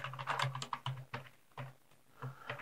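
A password is typed twice on a computer keyboard during a Windows automatic login setup: a short, quiet burst of individual key clicks in an uneven rhythm, close up with no voices.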